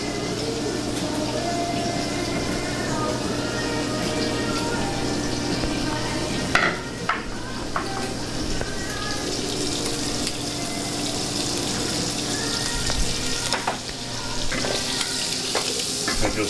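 Food browns in a hot pan in a restaurant kitchen, giving a continuous close sizzle with occasional clatters and stirring sounds, under faint background kitchen noise.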